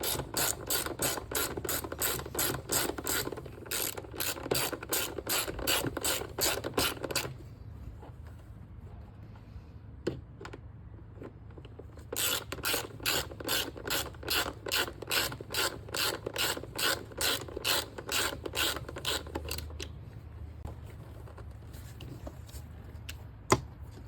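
Ratchet tightens bolts on the plastic transmission control module of a Ford Focus, rapid close clicking in two long bursts separated by quieter single clicks, with another burst near the end.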